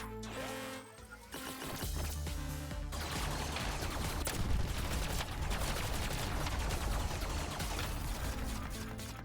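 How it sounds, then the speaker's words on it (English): Machine gun fire in the tank game Mini Tank Mayhem, a dense sustained burst of rapid shots over rumbling game noise, loud and continuous after a brief quieter start, with no talking. "machine gun."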